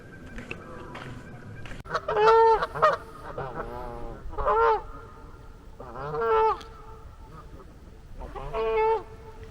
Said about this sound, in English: These geese are loud.